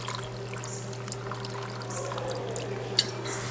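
Coconut water pours for a cultured coconut dill dressing in a kitchen, a soft continuous trickle over a steady low hum, with a small clink near the end.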